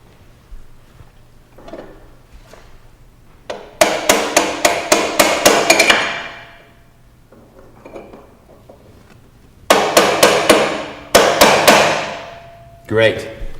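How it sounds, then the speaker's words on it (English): Two bursts of rapid metallic hammer-like strikes ring out close and loud as a motorcycle shock's preload lock ring is tightened with a tool, separated by quieter shuffling handling noise. "let's tighten the lock ring so the preload adjuster can't back off while you ride the bike"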